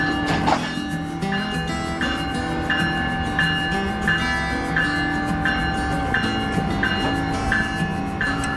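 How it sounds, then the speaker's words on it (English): An Amtrak ACS-64 electric locomotive runs steadily on the line to New York City. There is a continuous close rumble with a regular clicking beat over the rails, and no voices. "one brand new ACS-64 electric locomotive, which will whiz you up to New York City in about 3 hours"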